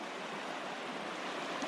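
A mountain river rushes steadily in the Kaimanawa backcountry, a dense, even broadband roar with no breaks, heard close by and alone.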